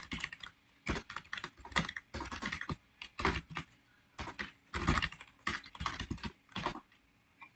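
Fingers type code on a computer keyboard in quick bursts of key clicks separated by short pauses, close and clear with no talking.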